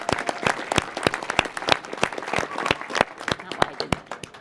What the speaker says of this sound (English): So if I could ask all of you for a nice round of applause for Kira Blackwell and all the work she does